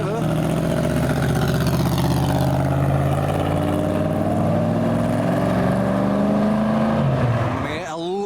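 An aluminium-bodied AC Cobra's engine burbles loud and close, a deep continuous rumble with small rev changes, cutting off abruptly near the end.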